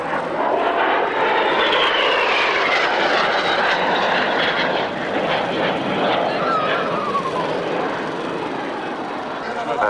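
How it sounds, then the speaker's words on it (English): A small jet aeroplane flies past at the North Weald airshow with a loud, sustained engine roar and a sweeping pitch shift as it passes, while an announcer talks over the noise. "Here is a little jet aeroplane like this."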